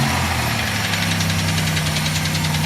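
A Chevy Malibu engine idling with a steady mid-pitched hum and a continuous fast rattling chatter running over it, close and constant without any voices.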